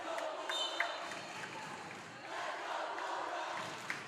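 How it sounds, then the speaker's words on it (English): A gymnasium crowd at a high school volleyball game cheers for the Bulldogs, a steady, fairly faint roar of voices with a couple of brief louder shouts. "Great crowd still cheering on the Bulldogs."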